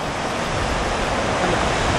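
Heavy water pours loudly over a small dam in a constant, dense roar that stays unbroken and close, with no talking.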